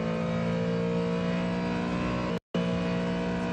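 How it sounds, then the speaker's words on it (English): A Ford Mustang GT3 race car at the Le Mans 24 Hours accelerates down the Mulsanne straight, its loud, steady engine roar full of rising harmonics, broken by a momentary cut-out before resuming. "As they re-accelerate down the Mulsanne straight though, the Ford is firmly in the draft of the turbocharged Aston Martin."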